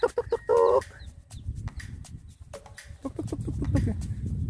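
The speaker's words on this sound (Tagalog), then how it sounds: "It's a wild chicken." A wild hen with several chicks clucks in short, soft bursts at Walsingham Nature Reserve in Bermuda, mixed with faint peeping and outdoor background noise. People talk quietly nearby.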